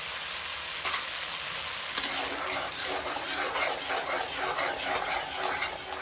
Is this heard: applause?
no